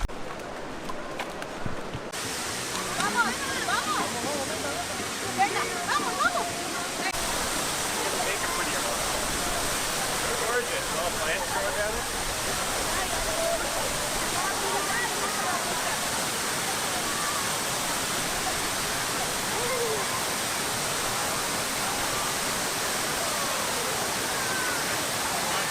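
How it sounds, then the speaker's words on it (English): Llanos de Cortez waterfall in Costa Rica roars in a steady, broadband rush throughout, with a few faint footsteps or knocks near the start. "Llanos de Cortez is a beautiful waterfall"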